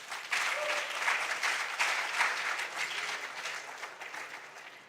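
Steady applause from an audience greeting school quiz contestants at a junior science and maths championship quarter-final, a dense clapping wash that holds evenly for about five seconds with no talk over it.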